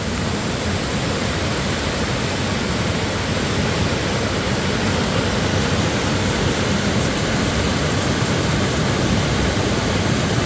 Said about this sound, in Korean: 폭포 감상 좀 하고 가야 되겠다